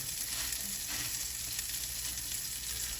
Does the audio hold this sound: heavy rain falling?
no